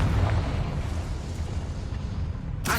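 A Confringo fire spell explodes in the video game Hogwarts Legacy, producing a dense, booming burst that fades into a rumbling tail, with a sharp crack near the end.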